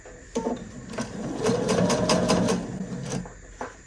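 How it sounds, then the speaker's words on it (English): A sewing machine whirs in a short run of rapid stitching, close and steady, with a few clicks before and after. "I'm going to sew a little bit closer so it's not right on this edge of my sewing machine"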